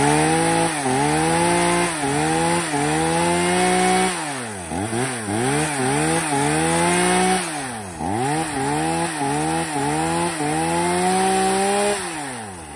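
A Tanaka chainsaw runs close and loud, its engine revving up and dropping repeatedly in rhythmic surges as it cuts into wood, with no one speaking.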